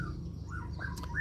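A caged white-rumped shama (murai batu) gives a few short, clear chirps and whistled notes, fairly near but soft over a steady low background hum.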